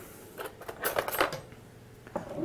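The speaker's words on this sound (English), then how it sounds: "I'm just going to use a fork just to mix" A fork clinks and scrapes against a bowl while stirring egg into an almond flour and zucchini mixture, giving a handful of short, irregular metallic taps and scrapes, close and fairly quiet.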